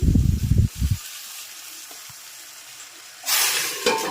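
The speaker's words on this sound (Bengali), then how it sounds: "এই যে কড়াইতে এগুলো কি বলে আমার? পুলি পিঠা।" Coconut-milk puli pitha fry in a wok. A few low thumps and knocks open a quiet stretch, then a broad frying sizzle swells up near the end and stays close and steady.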